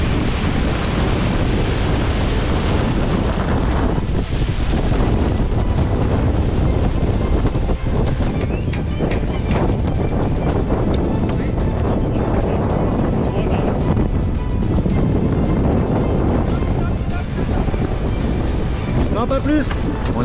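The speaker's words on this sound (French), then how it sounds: "le vent souffle un peu plus, il est à 22 nœuds maintenant" Strong wind of about 22 knots buffets a sailboat off Portugal after rounding a cape, a loud steady roar with microphone rumble and water noise throughout, and voices talk over it.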